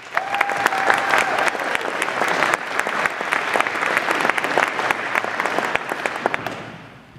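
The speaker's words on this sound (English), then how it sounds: "Please join me in saying thank you with a round of applause." Sustained, dense applause fills a hall at an Airman Leadership School graduation ceremony. An audience claps loudly and evenly throughout, then tapers off at the very end.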